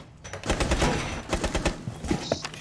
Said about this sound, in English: He's shooting me down.